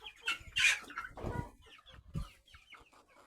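Close, fairly quiet clucking from farm chickens feeding on scattered sorghum, a few short calls and squawks in irregular bursts with pauses between.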